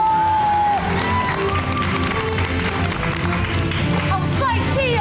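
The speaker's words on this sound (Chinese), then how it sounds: "各位朋友，给他们掌声鼓励一下。" An audience at a school talent show applauds a children's martial arts team, a sustained wash of clapping under music, while a host speaks over it.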